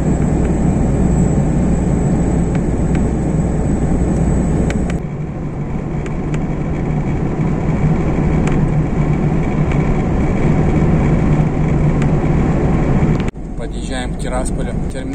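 A car drives along the Kuchurgan–Tiraspol highway toward Tiraspol, giving a steady, dense road and engine roar that holds throughout, with a brief shift in tone near the end.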